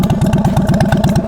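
A Harley-Davidson Sportster 1200 motorcycle engine idling up close with a loud, steady, lumpy rumble and rapid even pulses throughout.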